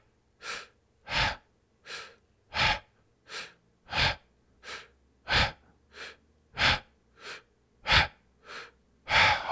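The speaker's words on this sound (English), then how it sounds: "breathing in and out through the mouth" A person breathes deeply in and out through the mouth during a guided breathing exercise, in about fourteen steady, even, close breaths with short pauses between them, with no talk.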